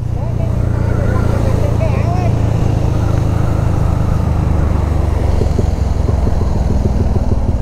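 A modified EX155 motorbike rides across a bridge on a road trip from Sapa to Ha Giang, Vietnam, its engine droning loudly and continuously while a voice talks over it.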